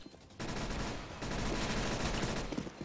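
Rapid automatic gunfire from Counter-Strike: Global Offensive, a dense continuous fusillade of loud shots that sustains for several seconds with a brief lull near the start.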